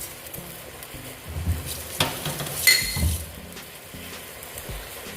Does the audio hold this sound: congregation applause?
no